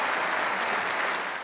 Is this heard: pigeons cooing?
no